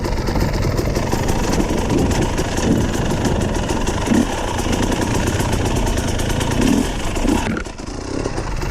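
A motorcycle engine runs loud and close throughout, a steady throbbing drone that surges briefly and dips near the end, with no voices.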